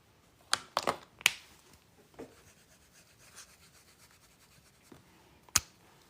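Handwriting in Arabic script produces soft, close scratching and rubbing strokes, punctuated by a few sharper taps and scrapes of the pen against paper.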